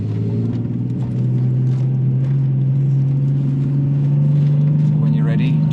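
Car engine idling and pulling in first gear during drift practice, a loud, steady low drone that rises slightly toward the end, heard close with no talk.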